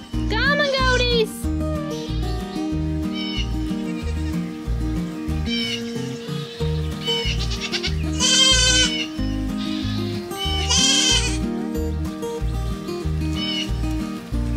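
Goats in a barn bleat repeatedly, several wavering cries rising over one another at a fairly close distance, with a steady low hum running underneath throughout.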